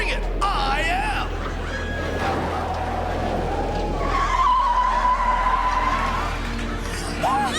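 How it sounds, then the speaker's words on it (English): A car drifting and skidding in a Goosebumps episode, with loud sustained tire squeals that rise and hold over an engine drone. Voices talk over the skids throughout. "suddenly he starts drifting the car all over the place"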